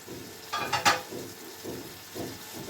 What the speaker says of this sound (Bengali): ঢেকে ঢেকে লো ফ্লেমে কষাচ্ছি